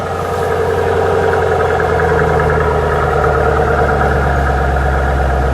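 A 2008 Ford Mustang Shelby GT engine running at a high idle on a cold day, a loud, steady, even rumble close by with no change in pitch and no talk.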